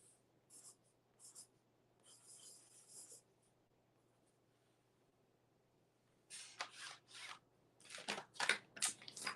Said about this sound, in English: I'm going to kind of lightly letter in what I just practiced